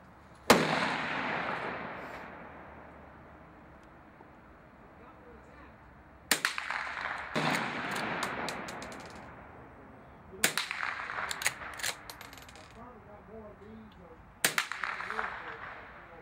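A gun being test-fired: four loud, sharp gunshots spaced several seconds apart, each leaving a long decaying echo, the later shots followed by brief clattering.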